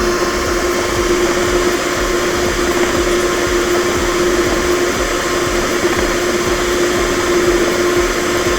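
An electric hand mixer whips egg whites into meringue for a Grand Marnier soufflé, a loud, steady, close motor whine with a constant pitch and beaters churning underneath, running without pause.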